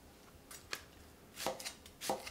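Knife chopping onions finely on a board, a few soft separate cuts spaced out with quiet gaps, close and faint.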